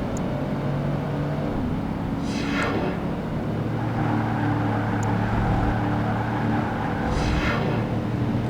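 Car engine droning steadily through a street race in the video game Project Gotham Racing 2, with a continuous hum and a couple of rising whine sweeps as it speeds through turns, loud and close throughout.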